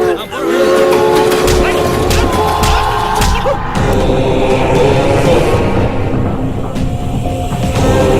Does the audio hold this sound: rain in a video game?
no